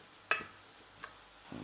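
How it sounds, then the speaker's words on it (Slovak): Basmati rice being stirred and briefly fried in oil in a small saucepan, a soft sizzle with a sharp scrape of the spoon, quiet and close with no speech. "Rýžu v krátkosti orestujem."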